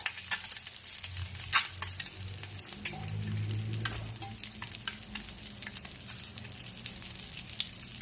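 Pieces for egg mukhmalli frying in hot oil: a steady close sizzle and crackle with scattered sharp pops and occasional utensil clinks, with no voices.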